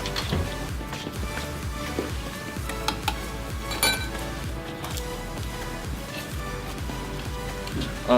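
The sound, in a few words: stirring eggs into a mixture with a fork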